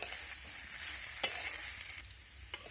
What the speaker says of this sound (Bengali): এখন আমি ভেজে রাখা আলু আর পেঁপে দিয়ে দেবো আলু পেঁপেটা দেওয়ার পর একটু আমি নাড়াচাড়া করে নেব